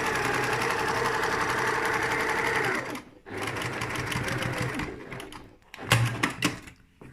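A sewing machine back stitches a seam on a lined tote bag. It runs as a steady, close whirring drone, pauses briefly, runs again, then gives a few shorter bursts near the end.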